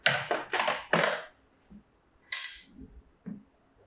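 Hatch removal on an AlphaESS SMILE5 hybrid energy storage system, heard as a quick series of sharp metallic clicks and clacks in a close, quiet room, followed by a few softer knocks after a pause.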